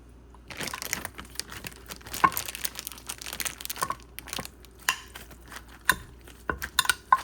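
Mortar and pestle pounding fish jeow dipping sauce made with tilapia, giving a rapid series of close, uneven knocks and scrapes with no talk.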